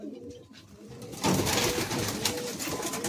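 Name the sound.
Madrasi pigeons cooing in a loft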